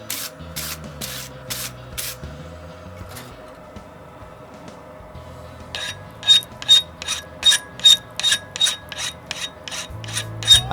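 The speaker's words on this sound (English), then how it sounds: "I am using this occasion to give it a nice cleanup, removing all scale and slag from the steel." A file rasps across a forged steel nose punch to clear scale and slag: a quick burst of sharp strokes, a pause, then a longer run of evenly spaced, loud scraping strokes, close up with no talk.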